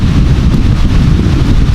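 Strong wind buffets the microphone with a loud, steady low roar throughout, no voices, outdoors at an archery challenge course.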